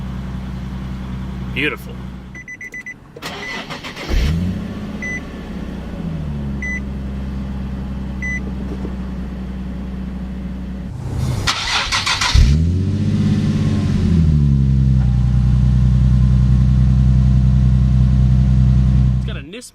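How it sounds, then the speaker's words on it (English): A 2009 Nissan 370Z NISMO is push-button started, its engine catching and settling into a steady idle, then revving sharply once before idling on. A person speaks briefly. "Just put your foot on the brake and the clutch, hit the button to start."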